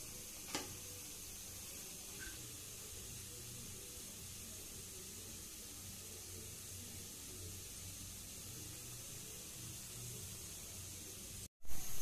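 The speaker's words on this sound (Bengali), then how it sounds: "মিডিয়াম জালে ভাজতেছি।" Golgula wheat-dough balls fry in hot oil over medium heat, giving a steady, even sizzle with a soft crackle throughout and one faint tick near the start.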